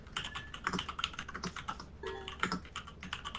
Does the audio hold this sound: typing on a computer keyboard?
yes